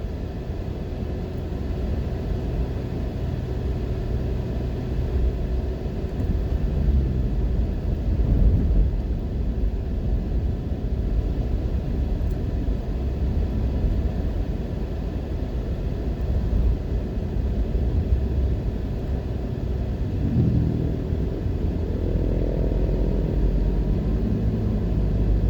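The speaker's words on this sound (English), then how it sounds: "we're actually driving out of Maypen now on Glenmuir Drive" Steady low rumble and road noise from inside a car driving out of May Pen on Glenmuir Drive in Jamaica, a constant engine and tyre drone throughout with slight swells and no talk.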